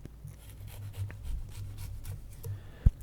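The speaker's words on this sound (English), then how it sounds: "I prefer just peeling the ginger with a knife." Knife blade scraping the skin off fresh ginger root in a quiet kitchen, a soft continuous rasping with small scratchy strokes and one sharp knock near the end, close and fairly faint.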